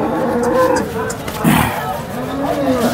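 Cows moo loudly and close by at the Sangola cow market, with a long, low call rising through the middle while people talk nearby.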